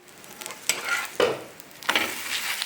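Adai dosa, a multi-dal batter crepe, cooks on a pan over a medium flame, giving a soft sizzle with three or four sharper bursts of crackling spaced across it.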